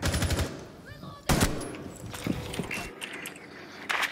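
Gunfire and weapon handling in the tactical shooter Rainbow Six Siege: sharp shots and mechanical clicks come in bursts, including a loud crack partway through, with brief voices between them.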